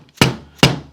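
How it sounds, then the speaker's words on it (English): A dead blow hammer taps a Honda GC engine's sump cover down into place: two close, solid, dull thunks about half a second apart, loud and unaccompanied. "you may need to give it a couple of taps with a dead blow hammer just to kind of help everything seat down good"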